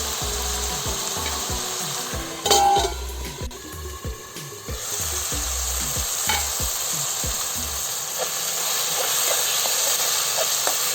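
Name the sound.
two tomatoes frying in pan for drumstick gojju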